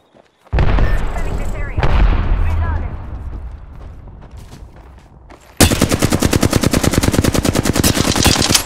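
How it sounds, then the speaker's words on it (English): In an Apex Legends firefight, a heavy grenade blast booms and rumbles away, then rapid automatic gunfire rattles loudly in fast bursts, with game voices mixed in. "Look out, grenade!"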